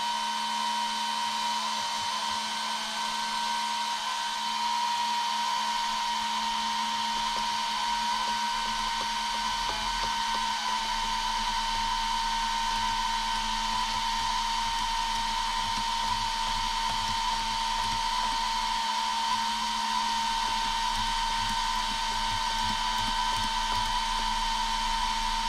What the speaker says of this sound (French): Il pulse ton ventilo, Yoni.